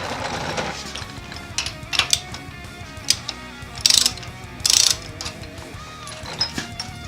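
A ratchet with a 15/16 socket loosens a motorcycle front axle nut during a brake rotor install, clicking and clanking in short metallic bursts with a couple of louder ratcheting runs nearby.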